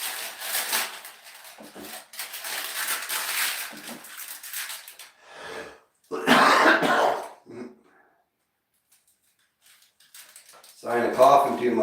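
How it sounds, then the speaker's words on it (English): Coughing and throat clearing from a person in a workspace used for heat pressing, several rough bursts spread across the stretch between talk, fairly close and loud, with quiet gaps. "Sign of coughing too much, talking too much."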